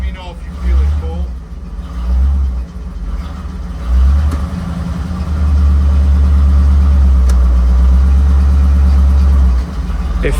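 A 1984 Camaro Z28 V8 with a freshly serviced 700R4 automatic transmission runs steadily nearby, its low engine rumble rising and falling a few times as if briefly revved, with voices talking over it.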